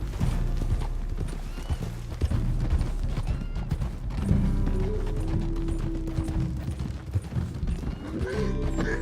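Horse hooves clip-clopping in a continuous rhythm during a ride in the video game Red Dead Redemption 2, mixed with a low mechanical rumble and a faint whinny, steady and moderately loud with no voices.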